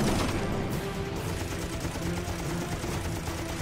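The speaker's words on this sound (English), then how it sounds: "The Wildcat's 6 50 caliber guns deliver 200 rounds in a 4-second burst." Six .50 caliber machine guns on a Wildcat fighter plane fire one dense, continuous burst of gunfire that roars steadily for several seconds, loud and sustained, with no talk over it.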